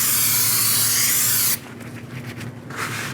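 Brake cleaner sprays in a steady loud hiss onto the rotor of a 2008-2013 Nissan Rogue's rear brakes for about a second and a half, followed by softer rubbing and wiping sounds.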